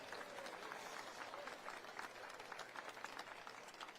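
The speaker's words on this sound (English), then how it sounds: "Raucous applause." Raucous audience applause at a road trip expo gathering, a dense, steady wash of many hands clapping with a few voices mixed in, continuous and fairly close throughout.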